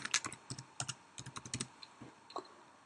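Keys clatter on a computer keyboard as a title is typed, a close, quick irregular run of clicks that thins into a few scattered taps.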